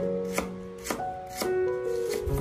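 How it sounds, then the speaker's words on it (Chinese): A knife cuts peeled fresh ginger into thin strips on a cutting board. About five crisp chops land at a steady, unhurried pace, close and clear over soft background music. "准备一块去了皮的生姜，切成薄片，然后再改刀切成姜丝"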